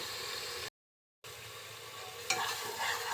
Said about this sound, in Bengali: মশলাটা খুব সুন্দরভাবে কষিয়ে নিব যতক্ষণ মশলা থেকে তেল ছাড়তে শুরু না করবে সে পর্যন্ত